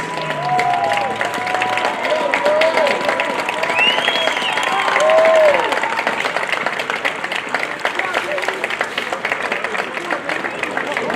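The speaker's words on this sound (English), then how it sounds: "he will leave to a round of applause here from the Nova Scotia fans" Nova Scotia fans at an under-17 baseball final applaud a departing pitcher, a steady crowd clapping wash running throughout with some cheering, while a commentator talks over it.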